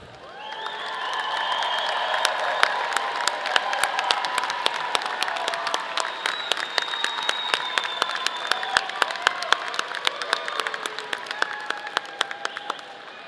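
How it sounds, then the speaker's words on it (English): A graduation audience at a college commencement breaks into applause, many hands clapping in a sustained, dense ovation that swells and then thins toward the end, with faint crowd murmur beneath. "give your family and friends a big round of applause"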